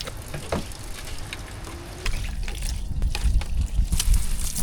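Water spilling and gushing out of a full water tank at a hot spring campsite beside a 30-year-old Astro van in winter, a steady broadband wash that swells louder in the second half.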